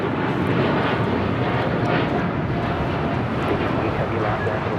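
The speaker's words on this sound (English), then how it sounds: "This is Japan Airlines Flight 15 taking off to Tokyo Haneda" A Japan Airlines jet takes off from LAX bound for Tokyo Haneda, a steady loud broadband engine roar that holds without letup, heard from the ground at the airport.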